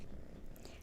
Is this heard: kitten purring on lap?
yes